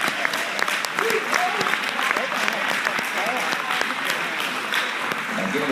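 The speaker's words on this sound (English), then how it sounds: "Let's give them all a round of applause." A forum audience keeps applauding the mayoral candidates with steady, moderately loud clapping, while scattered voices and chatter are heard beneath it.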